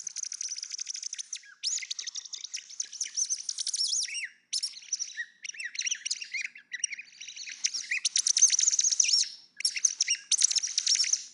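A small French whistle with a tiny hole, blown in and out, giving continuous high chirping, warbling tones in quick bursts with brief gaps, close and fairly loud, with no talking.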